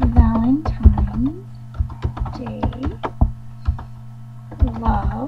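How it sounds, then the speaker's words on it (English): Computer keyboard typing in a series of quick, uneven key taps, close and clear, with a person talking over much of it. "I'm just going to type happy Valentine's"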